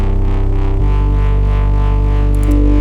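Distorted electric guitar played through a preset with reverb, ringing out in loud sustained chords that change twice, with no voice over it.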